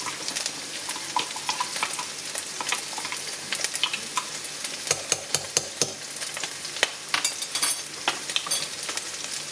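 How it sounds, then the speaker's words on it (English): Meat frying in a pan for a homemade Chinese chow mein, with a steady sizzle broken by a series of sharp scraping stirs, busier toward the end, with no talking. "we'll just give that meat a bit of a stir"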